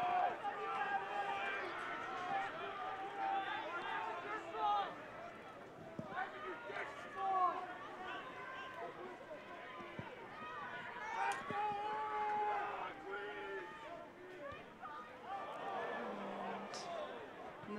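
Crowd noise at a university rugby semifinal between UBC and Queen's, a steady murmur and cheering that rises and falls with the play while a commentator talks over it throughout.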